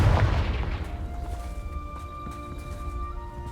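A Confringo fire spell blasts in Hogwarts Legacy, a loud low boom that fades into a rumbling tail with faint ringing magical tones lingering afterward.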